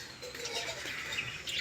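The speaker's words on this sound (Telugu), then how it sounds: "my love birds," Pet lovebirds chirping in a home, faint scattered tweets and calls in a brief quiet burst.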